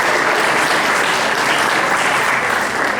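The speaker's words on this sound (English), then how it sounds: "Let's give them a round of applause." Loud, dense audience applause filling a hall, an unbroken wash of many hands clapping at a steady level for several seconds.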